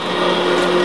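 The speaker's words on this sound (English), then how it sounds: "I just love this immersion blender." An immersion blender whirs steadily as it purees pot roast sauce, a loud, even motor drone lasting under a second and cutting off abruptly at the end, with no talk.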